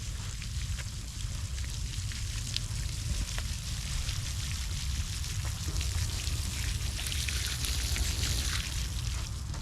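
Newly planted peas being generously watered, a continuous soft pattering splash of poured water falling on soil and leaves, steady and fairly quiet for the full stretch.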